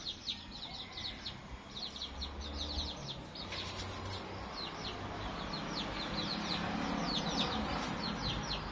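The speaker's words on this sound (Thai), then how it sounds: "เป็นไก่ของร้อยโทกำพลคงสวัสดิ์นายทหารนอกราชการครับ" A chicken roosting high in a tree in Trang province, Thailand, gives repeated short clucks and chirps over a steady outdoor background of wind and rustling, moderately distant.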